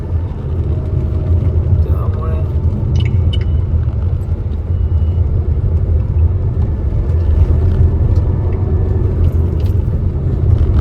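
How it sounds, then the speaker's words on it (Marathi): Heavy evening road traffic near flyover or metro construction in Bandra, a constant low rumble of engines close by with occasional faint horns, steady throughout. "संध्याकाळी खूप ट्रॅफिक असतो मित्रांनो या जागेवर"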